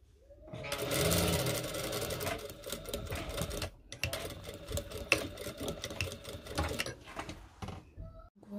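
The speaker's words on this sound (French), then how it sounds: "Donc j'ouvre et je couds." A sewing machine stitches bias binding onto a rounded neckline of a garment, running steadily in a loud, continuous rattling whir with a brief pause partway through before resuming.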